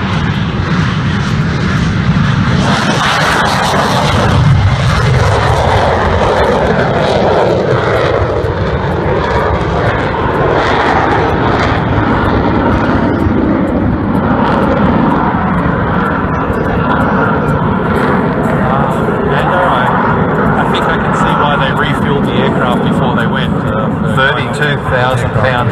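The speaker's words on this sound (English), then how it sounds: "Supersonic, all-weather, carrier-capable, multi-role fighter and ground attack aircraft." A supersonic, all-weather, carrier-capable multi-role fighter and ground attack jet flies at an air show, its loud, steady engine roar filling the scene with broad rumble and hiss, while a commentator speaks over a public address.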